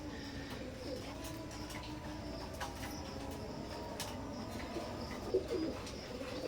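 A pair of Teddy pigeons from an imported bloodline gives soft, faint cooing, mostly a brief burst near the end, over a steady low background hum.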